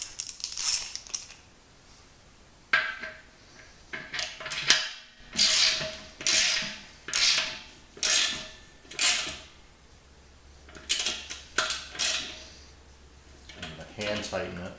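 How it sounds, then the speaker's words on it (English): A 22 mm fitting being tightened by hand on an air compressor, producing a regular series of gritty metallic scraping and clicking strokes, close up and evenly spaced, with pauses between turns. "So I'm going to go ahead and hand tighten it."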